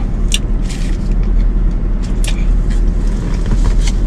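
Steady road-vehicle rumble fills a Costco parking lot in Canada, with cars idling and passing nearby, low engine drone throughout and a few brief hissing or squeaking sounds on top.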